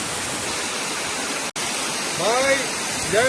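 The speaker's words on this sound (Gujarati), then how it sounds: "જો અહીંયા પાણી કેવું છ ભરાય" Flowing water filling up outdoors, a loud continuous broadband rush with a brief dropout midway and faint bird calls near the end.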